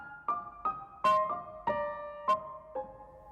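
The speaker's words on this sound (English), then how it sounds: "he repeats that melody at the same time but a 6th below the top line" A solo piano plays a melody doubled a sixth below the top line, with about seven separate struck notes in an uneven rhythm, each ringing briefly before the next.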